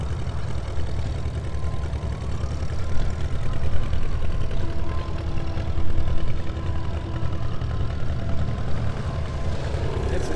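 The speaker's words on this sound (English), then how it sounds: "Tractor here waiting on another passenger." A John Deere 530 tractor idling at a New Year's Day parade, a steady low engine rumble with faint outdoor background sound, continuous and moderately close.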